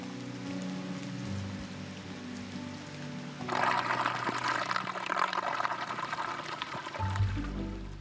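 Water draining and trickling away across an outdoor ice rink surface, a steady wet patter and gurgle that turns louder and busier partway through, continuing without speech.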